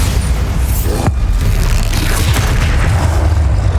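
A Bombardo explosion spell from the Hogwarts Legacy video game, played on PS5, bursts with a sharp booming blast amid loud, continuous crackling battle noise, with no talking.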